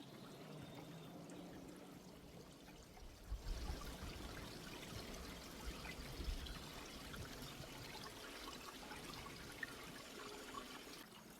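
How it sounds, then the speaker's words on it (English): Water rushes continuously like a flowing stream, steady and moderately loud, with a fuller surge after the first few seconds and no voices. "I can hear water."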